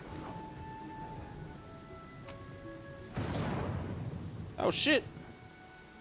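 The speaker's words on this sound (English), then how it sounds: "That's a big ass storm." Thunderstorm rumbling in the video game Pathfinder: Kingmaker, a broad burst of thunder roar swelling midway over steady rain hiss, with game music tones beneath and a short startled exclamation near the end.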